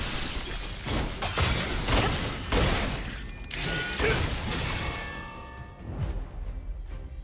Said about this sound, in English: I heard like glass shattering.